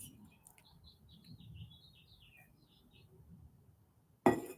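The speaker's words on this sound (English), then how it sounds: "Oh, I can hear the birds." Birds chirping in a run of quick high tweets and short trills early on, moderately faint over a soft low rumble, ending with a sudden loud thump.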